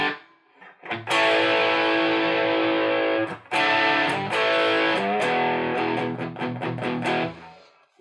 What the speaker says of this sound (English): then kind of get a feel for what it sounds like dimed